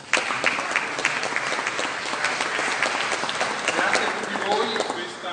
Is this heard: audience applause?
yes